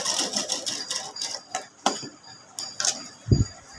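A sewing machine stitches a half-inch seam on a halter neck in short bursts of rapid ticking and clicking, quiet and close, with brief pauses and a soft thump near the end.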